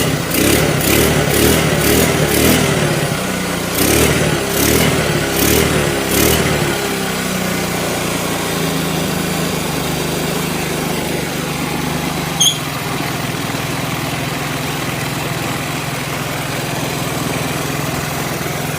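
Motorcycle engine converted from fuel injection to a carburetor with a Shogun CDI, running without a battery: a run of quick, loud throttle blips for several seconds, then it settles into a steady, close idle.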